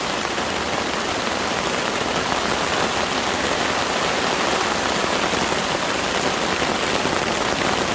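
Heavy thunderstorm rain pours onto a hammock tarp in a steady, dense hiss that stays loud and unbroken from start to finish, with no voices.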